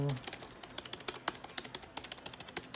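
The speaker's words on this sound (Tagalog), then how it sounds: "Parang pinaka-tunog ng keyboard. Hindi masyado maingay." Quiet, steady typing on a Logitech MK235 keyboard: a fast run of soft, close key clicks with an uneven rhythm and nothing else around it.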